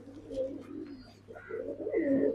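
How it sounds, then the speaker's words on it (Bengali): Paired red pati pigeons sit in their loft, some on eggs, producing soft, low cooing calls in short phrases, fairly close and without talk. "লাল পাতি কবুতর গুলো জোড়া দেওয়া আছে, সব বসে আছে"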